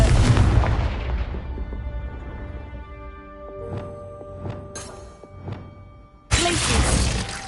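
Confringo blasting spell in Hogwarts Legacy on PS5 Pro, a loud booming explosion with shattering debris that rings out and decays, followed by smaller cracks and a second heavy blast near the end.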